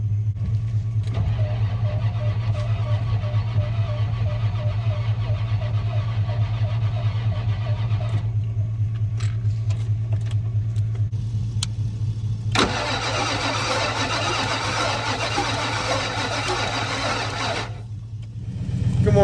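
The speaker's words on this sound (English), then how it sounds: "we're gonna get the battery hooked up, see if we can get her to crank" An OBS Ford truck engine cranks after sitting unused for a couple of years, a loud, continuous starter churn with a steady low drone that changes character partway through and then drops off near the end.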